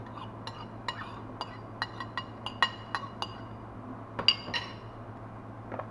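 Sprouted chickpeas and wheat tip into a pot of ayran aşı soup, giving a scattered series of light, sharp clinks and taps over a low steady hum.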